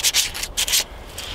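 Sandpaper is rubbed by hand over a VW engine case from a Type 181 Thing to reveal stamped numbers, a close, raspy scraping in quick back-and-forth strokes that pause briefly, then a softer final pass.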